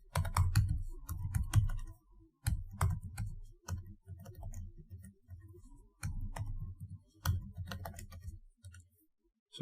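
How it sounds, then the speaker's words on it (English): Rapid clatter of typing on a computer keyboard, close and fairly loud, in uneven bursts of keystrokes with short pauses between them, no voices. "So just need to type in our email address."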